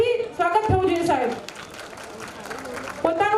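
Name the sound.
audience applauding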